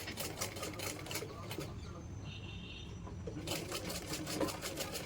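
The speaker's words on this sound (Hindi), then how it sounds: "आधे इंच पे सिलाई करते हुए हमें ऊपर तक लेकर आना है।" A sewing machine stitches a hook strip onto a blouse, a steady rapid chatter running through most of the stretch with a brief quieter pause in the middle, heard fairly close.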